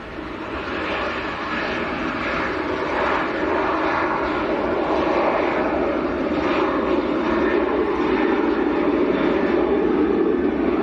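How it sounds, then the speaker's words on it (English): Jet2 Boeing 737 airliner at Manchester Airport, its engines giving a continuous roar that builds slightly and holds steady, heard from some distance without talk. "Number 1 is a Jet2 737 which is lined up"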